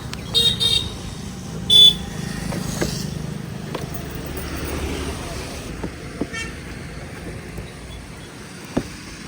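A car pulls up near a seaside waterfall outing at Guhagar, with a few short horn toots early on over a steady engine and outdoor rumble, then quieter idling with scattered clicks.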